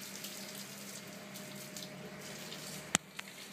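Water rushes steadily from a garden hose as a child plays with it outdoors, a continuous hiss with a couple of sharp knocks near the end; no one speaks.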